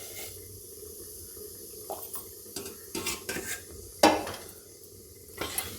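Soy flour is stirred into boiling water in a pot on the stove, heard as scattered scraping and knocking of a utensil against the pot, with one sharp clank, over a low steady background hiss.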